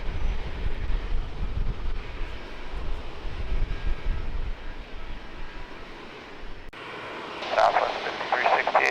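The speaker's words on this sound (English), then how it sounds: "United 1127, a Boeing 738. You're coming in from Newark." A United Boeing 737-800 arriving from Newark flies near San Diego Lindbergh airport, its jet engines giving a sustained broad roar that shifts and brightens toward the end.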